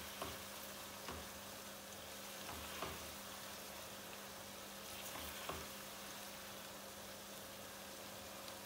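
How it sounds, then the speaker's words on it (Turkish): Steady, close sizzling of onions frying in plenty of oil in a hot pan, a continuous crackle with a few soft stirring knocks and no voices. "Soğanımı güzelce kızartayım."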